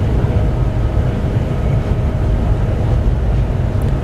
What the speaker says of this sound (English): So I'm just allowing the train to gently slow down to the 95 limit.